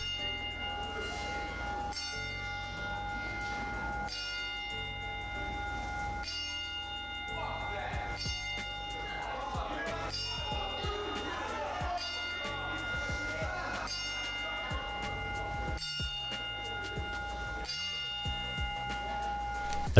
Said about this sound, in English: The promotion decided to perform the traditional 10-bell salute.